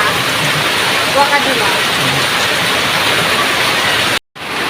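Heavy rain pours down in a village in a dense, constant roar close by, with a brief spoken remark over it before a sudden short cutout.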